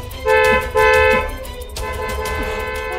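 A car horn honking in two loud close blasts, a short one then a longer one, followed by a softer sustained tone, with no voices.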